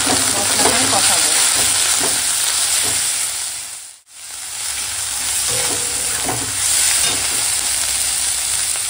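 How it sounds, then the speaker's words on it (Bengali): Spice paste of salt, Kashmiri chilli powder, turmeric and dried chilli powder frying loudly in a pan with steady hissing sizzle and rhythmic stirring scrapes, briefly dipping quiet midway before resuming. "মশলাটা কষাবো।"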